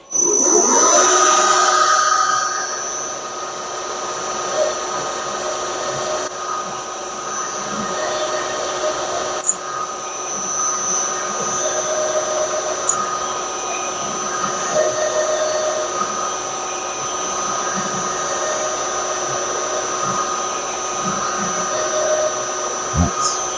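A pilot hole is peck-drilled into the valve chest of a model steam engine, giving a steady, close machine whine with faint tonal ringing that holds on throughout, plus a few brief clicks and no talk.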